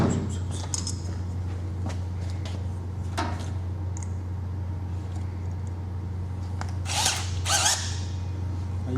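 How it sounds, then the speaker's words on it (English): A smaller drill bores a hole outdoors, its motor giving a steady low hum throughout with intermittent sharp clicks and scraping bursts as the bit works, close and continuous. "all you have to do is drill this hole."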